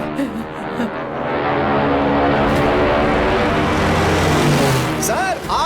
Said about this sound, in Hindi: 8 जापानी विमान इस इलाके में बमबारी करने आए हैं।